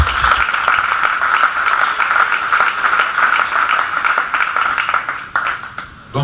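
Conference audience applauding loudly, a dense, sustained burst of many hands clapping close by, tapering and breaking off near the end.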